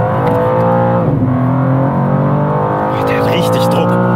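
A 2023 BMW M2 pulls hard on the Nordschleife, its engine note climbing through rising harmonics in a loud, sustained acceleration, with voices talking over the roar.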